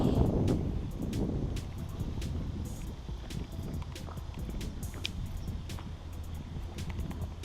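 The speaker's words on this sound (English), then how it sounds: "we're starting to get some wind out here. It's probably blowing a good 15-20 miles an hour." Steady wind from Hurricane Irma blows at about 15-20 miles an hour outdoors on the water, a constant rumbling buffet across the microphone with faint ticks and knocks, and no voices.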